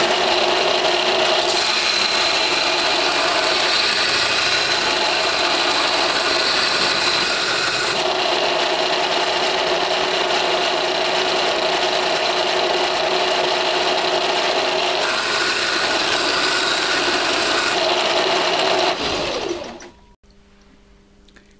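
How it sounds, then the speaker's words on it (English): A belt sander grinds the sides of a metal speargun trigger housing square and down to size, a loud continuous whirring abrasion that shifts slightly in pitch as pressure changes, then cuts off near the end. "On the belt sander, I'm gonna grind all the sides square to each other and down to the final size"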